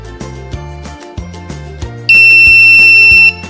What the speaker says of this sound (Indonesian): Kemudian ada suara buzzer yang artinya itu akses ditolak.